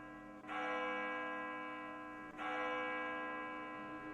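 A school bell in a VR roleplay game rings twice, each stroke a loud, bright tone that hangs on and slowly fades, with no talk over it.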